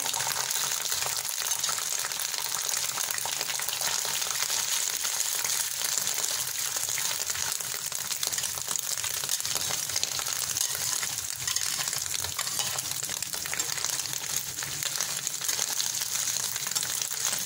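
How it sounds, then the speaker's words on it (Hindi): Boiled minced meat (keema) frying in hot oil on a tawa, a constant dense sizzle and crackle with no voices, steady in level throughout. "तवे पर ऐड करेंगे ऑयल, और इसको अच्छे तरीके से गर्म कर लेंगे। इसमें ऐड करेंगे कीमा।"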